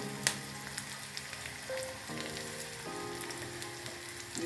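Carrots tossed into sautéed onion sizzle in a pan for oats upma, a soft continuous frying hiss with a few light clicks and faint tonal hum behind it.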